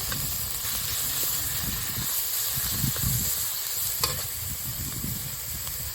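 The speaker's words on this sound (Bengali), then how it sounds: "পেঁয়াজ বাটাটা দিয়ে দিচ্ছি" Onion paste hits hot oil in a pan and sizzles loudly and continuously, a dense close hiss with faint stirring scrapes throughout and no voices.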